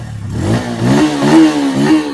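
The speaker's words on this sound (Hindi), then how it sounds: "तो साउंड कुछ ऐसा आपको मिलेगा। ये 150 सीसी बाइक में एक्चुअल में इसका इंजन काफी ज्यादा स्मूथ है, रिफाइन है।" A Bajaj Pulsar N150 motorcycle with a 150 cc engine is revved up close, rising from idle into about three smooth, loud throttle blips in quick succession.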